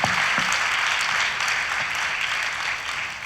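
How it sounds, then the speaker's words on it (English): An audience at a wellness event in Pune, India applauds together in a sustained round of clapping that holds at an even level, a dense wash of many hands throughout. "Let's have a round of applause for all those lovely answers"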